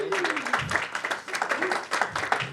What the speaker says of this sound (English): A good round of applause here.